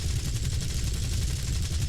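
Plane-mounted 7.62 mm machine guns in War Thunder firing in a fast continuous burst, a dense rattling roar mixed with engine drone, loud and steady throughout.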